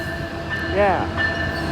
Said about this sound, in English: 2124, leading the Amtrak train number 541, the Capital Corridor, heading southbound to San Jose